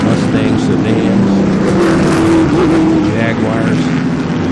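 Vintage Group 6 race cars, a field of Corvettes, Mustangs, sedans and Jaguars, thunder around Lime Rock with a dense, loud, continuous engine roar and shifting pitch, a voice talking faintly underneath.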